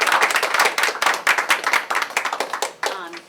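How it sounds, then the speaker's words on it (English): A room of attendees at a League of Women Voters event honoring 9/11 first responders claps loudly and close up, with distinct overlapping hand claps that fade near the end as voices come in. "Can we have a round of applause?"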